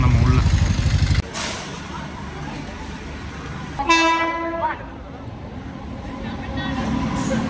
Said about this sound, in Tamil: திருவனந்தபுரம் எக்ஸ்பிரஸ் இதில் தாங்க நம்ம கேரளா போகிறோம்.